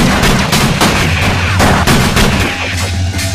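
A gunshot rings out in a Fear Effect cutscene on the PS1. It is loud and close, with sharp blasts spread across a few seconds over a steady low rumble, and no voices.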